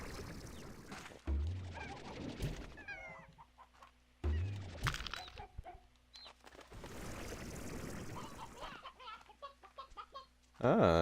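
Rooster clucks and crows from Slime Rancher 2 come in several loud bursts, with game sounds and chatter woven between them.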